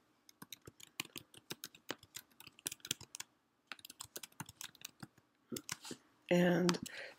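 Fingers tap out a map description on a computer keyboard in quick, close bursts of clicking keystrokes with brief pauses between them, ending in a short louder clatter.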